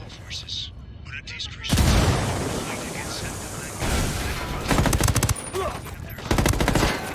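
Automatic weapons fire in a Ghost Recon Wildlands firefight: loud rapid bursts of gunshots with a heavy boom, several separate volleys over a few seconds, mixed with game audio.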